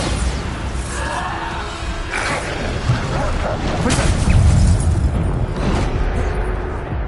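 Bombarda spell explosions in Hogwarts Legacy, played on PS5, several booming blasts and crashes in quick succession amid dense combat noise, loud and close, with voices in the game.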